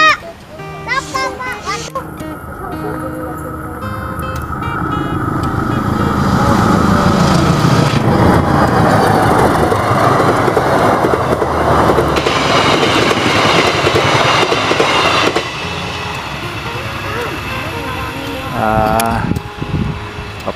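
The KA Serayu passenger train, hauled by a vintage locomotive, rumbles and clatters past on the Jakarta Pasar Senen–Purwokerto route in a long, loud, steady roar, with children talking and playing nearby throughout.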